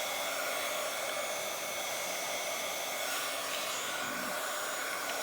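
A hair dryer blows steadily at close range, drying wet paint on a Bible journal page, its even roaring whoosh continuing without a break and with no voices.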